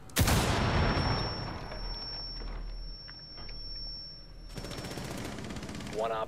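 Pistol gunfire in a close-range duel in Rainbow Six Siege, a sharp burst of shots at the start followed by scattered quieter shots and game noise, with another burst near the end.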